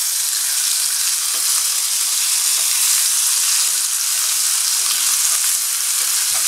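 Lamb pieces sear in a frying pan with a loud, constant hissing sizzle that stays bright and even throughout, with small pops now and then and no talking.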